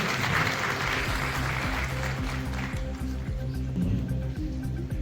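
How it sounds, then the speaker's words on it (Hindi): Loud applause from an audience welcoming guests at a grand lecture on national education policy held by an association of school operators in Dewas, steady clapping throughout with a low musical or hum tone underneath. "जोरदार तालियों से स्वागत करें।"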